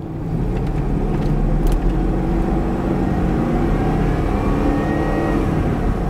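A Chevy Tahoe 4x4 SUV drives at speed, a steady broad engine and road roar filling the cabin, with slight shifts in pitch as it changes gears and a couple of brief knocks.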